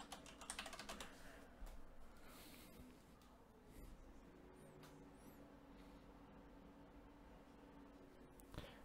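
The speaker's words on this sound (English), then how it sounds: "Let me type in my password." Password being typed on a computer keyboard, a quiet run of light key taps scattered over a low background hum, with a few brief louder clicks near the start and end.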